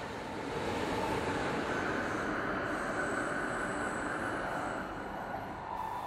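Steady, loud rumble of a train in motion fills the whole stretch without a break, a broad even roar with a faint high whine above it and no voices.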